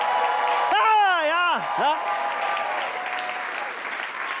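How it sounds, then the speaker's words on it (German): Audience at a science slam applauding loudly and steadily, the clapping continuing underneath while someone speaks briefly over it with a rising, expressive voice. "Jetzt machen Sie mal Applaus, so ein 10er-Punkte-Applaus."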